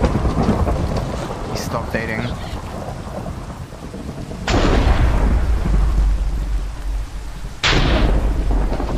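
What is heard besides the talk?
thunder from a summoned lightning bolt in Minecraft video game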